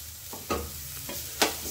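Spices for masala sweet corn sizzle as they temper in hot oil, a steady close-up crackle with a couple of sharper stirring knocks.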